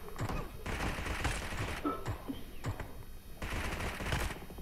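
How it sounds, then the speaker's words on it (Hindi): Rapid bursts of automatic gunfire in the video game BGMI crackle in repeated volleys, dense and loud, with thumps between them and no talking. "बहुत गोलियां फायरिंग हो रही है गाइस।"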